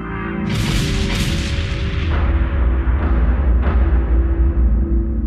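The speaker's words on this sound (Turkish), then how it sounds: "Beş gemi patlamalardan dolayı zarar gördü." Heavy explosions from limpet mines attached to ships in a harbour during a wartime raid, a series of deep booming blasts with rolling rumble, loud and close, with no talk over them.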